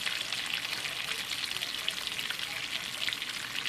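Salmon frying in a pan gives off a steady, bright sizzling hiss that crackles evenly and continuously, close up and with no talking over it.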